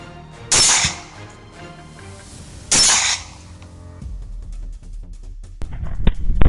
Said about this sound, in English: A precise bullet, and the first boar drops instantly.